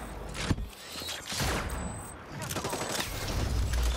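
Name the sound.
gunfire in the video game Hyper Scape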